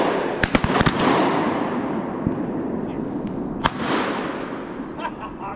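Shotgun blasts during a duck hunt at a pond, a quick cluster of several sharp reports early on and another single shot a few seconds later, loud against a steady outdoor background.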